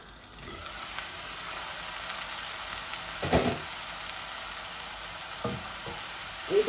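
Onions slowly added to spiced oil in a pan for an ilish fish dish, frying in a steady broadband sizzle with a few louder spattering bursts and stirring knocks; no talking.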